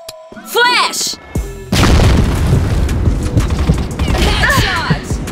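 A flashbang grenade goes off in the shooter game CrossFire with a loud, sharp bang followed by a sustained ringing, noisy wash, amid other game effects and brief voice callouts.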